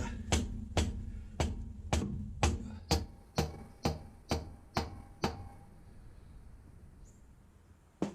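About a dozen sharp, evenly spaced hammer taps seating a part on a Quadrajet carburetor of a square-body truck, close and ringing, fading off before a final knock, with no talking.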